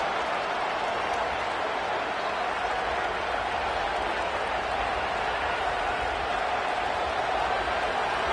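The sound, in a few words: loud football stadium crowd noise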